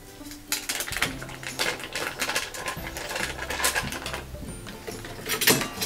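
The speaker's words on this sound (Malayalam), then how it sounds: "ആദ്യം നമുക്ക് ബട്ടറിനെ ഒന്ന് ബീറ്റ് ചെയ്തെടുക്കാം." Butter being beaten for chocolate chip cookie dough, a busy mechanical whirring and clattering of a mixer or beater working steadily and close, with no talk.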